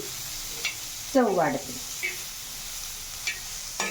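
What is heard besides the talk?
stirring bitter gourd frying on a tawa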